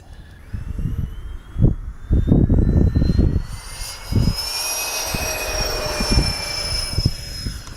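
A Freewing 80mm A-10 RC jet loaded with full armament flies past, its ducted-fan whine rising and sweeping in pitch, loud and near, with rumbling buffets of wind underneath.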